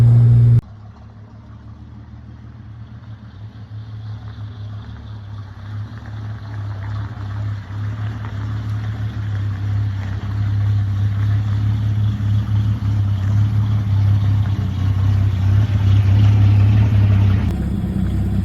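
A 1946 Hudson car engine with a rebuilt carburetor idles with a steady low rumble that gradually grows louder, up close, with no talking.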